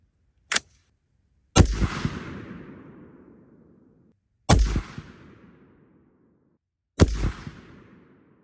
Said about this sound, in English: There's 3 shots.